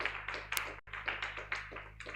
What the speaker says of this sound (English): Can clap for them until they sit.